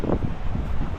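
Steady blustery wind at the seashore of Cox's Bazar, a broad low rumble buffeting the microphone continuously and fairly loud, with no voices over it.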